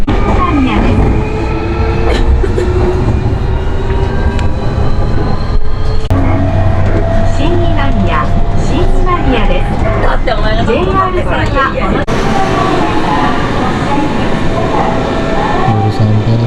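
Airport rail train running from Kansai Airport to Namba Station, a steady loud rumble of the carriage with rail clatter and shifting motor whine throughout, while people talk over it.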